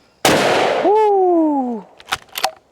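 A Ruger American rifle fitted with a Putnik suppressor fires one sharp, loud shot, followed by a sustained ringing tone that fades over about a second, then a few faint clicks.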